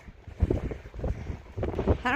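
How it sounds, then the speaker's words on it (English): Strong wind buffets the microphone in low, rumbling gusts that swell and fade on the Continental Divide Trail near Chama, with a faint voice briefly present near the end. "Very, very windy."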